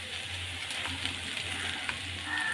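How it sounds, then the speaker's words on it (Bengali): Fish curry boiling in a pot as fish pieces go in: a steady, moderately quiet bubbling sizzle that runs evenly throughout, with faint splashy textures and no talking. "এদিকে দেখো ঝোলটা ফুটে উঠেছে আমি সব মাছগুলো এখন দিয়ে দেব"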